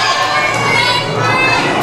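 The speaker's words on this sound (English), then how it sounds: "You can hear her teammates in the background yelling at her." Teammates at a powerlifting meet shout and cheer loudly and continuously at a lifter attempting a heavy lift, a dense crowd of voices close by that fills the whole moment.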